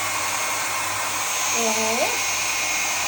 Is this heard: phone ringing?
no